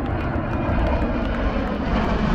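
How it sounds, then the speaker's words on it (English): A military plane flies overhead above a remembrance memorial at a fairground, its engine a steady, loud roar with no pauses. "A military plane in the air"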